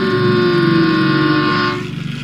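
Battery-powered toy train running, a steady loud whirring buzz of a small motor that cuts off abruptly near the end, leaving a fainter rattle.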